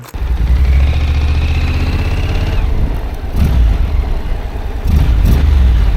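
A motorcycle engine runs loud and close as the rider pulls away from a stop, revving steadily and rising again in two throttle bursts over a constant low rumble.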